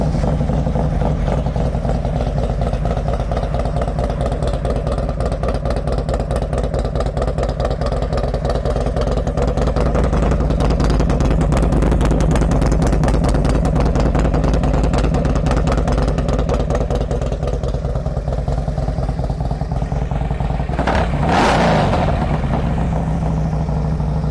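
A 2007 Harley-Davidson Road Glide with about 13,000 miles runs with a loud, steady engine rumble up close, holding one even idle throughout with a brief swell near the end.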